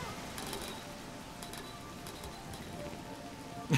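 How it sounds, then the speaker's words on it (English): Steady rain falls in the video game Rain World, a continuous soft hiss of drops across the whole stretch with a few brief tapping accents and a short louder bump at the very end. "Don't try to jump while under the effect of rain."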